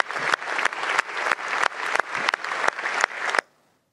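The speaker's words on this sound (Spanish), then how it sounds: "Gesto de solidaridad con el pueblo español, se ponen en pie y aplauden." Parliament members stand and applaud in a chamber, with loud, dense clapping that pulses in a steady rhythm before cutting off abruptly near the end.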